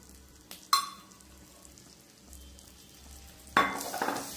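Prawns that have finished frying get stirred through fresh cream in a pan for butter garlic prawns, giving a soft sizzle with a couple of sharp utensil scrapes against the pan.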